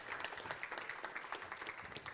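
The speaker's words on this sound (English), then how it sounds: "Another round of applause for Robyn." Applause from an audience at an annual general meeting thanking a guest speaker, a steady patter of many hands clapping at moderate distance, fairly faint and continuous throughout.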